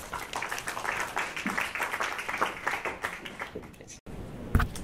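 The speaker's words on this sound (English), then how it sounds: "Let's give him a round of applause." Audience applause welcomes a speaker at an energy industry conference, a few seconds of scattered hand clapping that fades out, followed by a thump and a brief voice.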